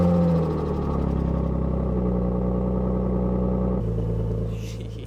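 A stock 28-year-old BMW E36 M3 idles with a steady, throaty engine rumble heard up close, holding an even tone throughout and softening slightly near the end.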